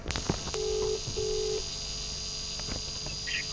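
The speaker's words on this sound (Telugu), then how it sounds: "ఇప్పుడు మనం ప్రాంక్ కాల్ చేస్తున్నాము" A telephone keypad sounds a couple of short, clear dialing beeps as a prank call is placed. Steady background noise runs underneath and no one speaks.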